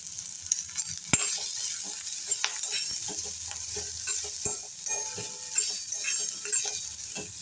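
Onion, tomato and spices with turmeric and red chilli powder being stirred and roasted in a pan for hotel-style paneer matar, soft sizzling with a spoon scraping and tapping against the pan, close and quiet.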